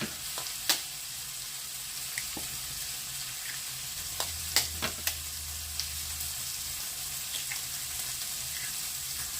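Sausage frying in oil in a pan alongside onion, grated cheese and eggs, with a steady close sizzle throughout and a few sharp clicks from stirring, no talk.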